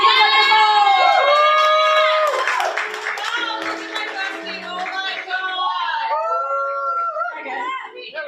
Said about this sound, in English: Make some noise for Remy! Clap for Remy